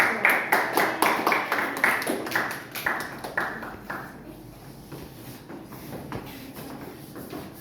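Students in a classroom applaud a presenting group with a rhythmic series of sharp, loud claps that soon loosen into scattered, softer clapping and shuffling before fading.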